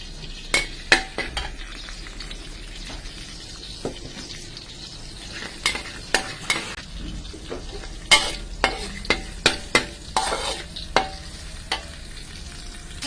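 Chilies stir-roasted in a dry pan, probably for a Thai dish with minced pork and long eggplant, making a steady soft sizzle broken by frequent scraping strikes of a utensil against the pan, with no speech.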